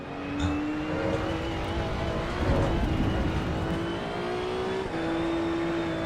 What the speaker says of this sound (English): the downshift sound nice